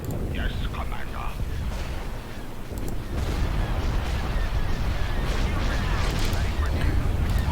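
Starship battle in the Star Wars: Empire at War video game, with guns firing in a dense, continuous barrage of booming blasts and rumble throughout, and faint voices mixed in.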